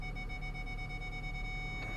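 A Ford's parking sensor holds one continuous, steady electronic tone. The sound is faint and unbroken, with a low engine hum beneath it and no talking.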